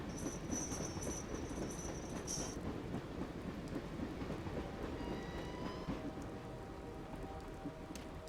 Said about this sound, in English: The dog seems used to the train. Didn't even bat an eyelid, despite the racket.